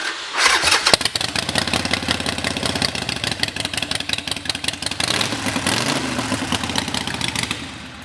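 A 2011 Harley-Davidson Sportster SuperLow with Vance & Hines short shots exhaust cranks and fires up, then settles into a loud, lumpy idle with a throaty, rapid exhaust pulse close by.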